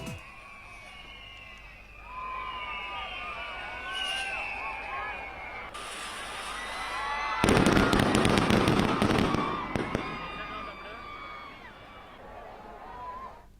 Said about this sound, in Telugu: ఆకాశం దద్దరిల్లేలాగా భారీ శబ్దాలతో కనులన్నీ కూడా మిరిమిట్లు గొలిపేలాగా బాణసంచా కాల్పులు సాగుతున్న వైనం అందరినీ ఆకర్షిస్తోంది